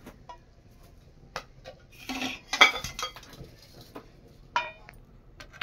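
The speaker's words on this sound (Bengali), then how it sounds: "এবারে কড়াইটা নামিয়ে নিচ্ছি।" A kadai wok lifted off the stove after cooking ripe palm fruit batter for kadam pitha: sparse metallic clanks and scrapes of pan and utensil, with a busier cluster of clatter in the middle, in a quiet kitchen.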